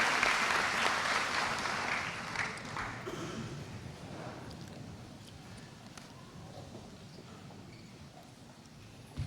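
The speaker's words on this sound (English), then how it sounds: "Let's give them a big round of applause." Applause from a crowd at a 2017 high school graduation ceremony, broad and loud at first, then gradually thinning and fading over several seconds as it dies away.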